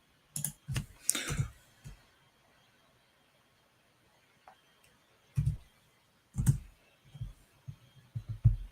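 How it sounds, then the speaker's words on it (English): Typing on a computer keyboard, with clustered close clicks in short bursts at the start and again toward the end, separated by a quiet gap. "I was typing something to the members."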